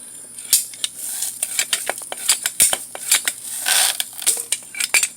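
Bamboo cuttings snipped off one after another along a row, giving a string of sharp, close clicks and crisp cuts at an uneven pace, with no voices.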